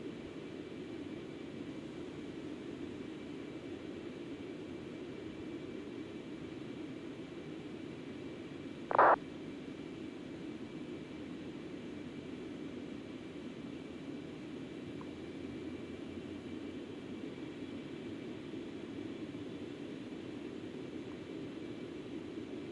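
Concorde jet engines in flight in the X-Plane 11 simulator give a steady, low cabin roar that stays constant throughout, with one brief click-like blip partway through.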